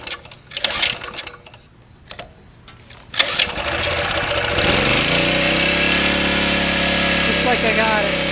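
A Sportsman 2000 watt portable generator is pulled and handled with a few clatters, then its small engine catches and settles into a steady, loud, continuous running drone that holds to the end.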